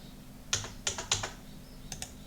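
Computer keyboard keys pressed while working in MS Word, including Enter, three quick close clicks followed by a pause and two more taps, crisp and near in a quiet room.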